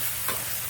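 A metal spatula chops beef and onions on a hot griddle, a short scrape over a steady sizzle of frying meat.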